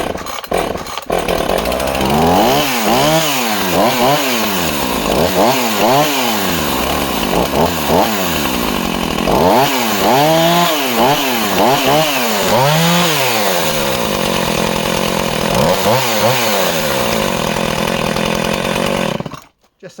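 A Stihl, Husqvarna or Echo chainsaw engine running slightly rich after carburetor service and a fresh plug, loud and close, revving up and down in repeated surges then idling unevenly before cutting off at the end.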